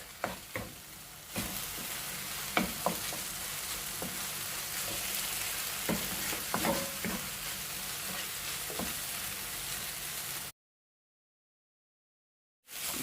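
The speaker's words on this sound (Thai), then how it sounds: "เราจะผัดให้เนื้อสุกเนาะ" Meat stir-frying in a pan for rice-stuffed zucchini and cabbage rolls, a steady sizzle broken by repeated scraping stirs, then a sudden drop to silence before the sizzle returns at the end; no talking.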